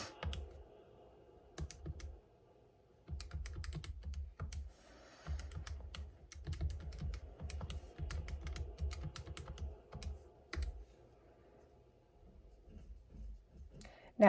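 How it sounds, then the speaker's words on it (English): Fingers tap calculator keys in quick irregular bursts of soft clicks, close by, with pauses between runs of numbers. "Type that in the calculator."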